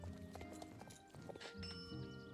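Horse hooves clip-clopping steadily while riding in the video game Star Stable Online, layered with game music tones and a brief whinny-like accent, fairly quiet overall.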